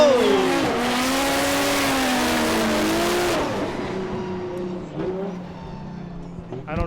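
A Formula Drift car at Okayama, Japan, throttles hard through a drift with a loud, sustained engine wail and squealing tires, then the engine note drops and fades as the car moves away, leaving a quieter rumble.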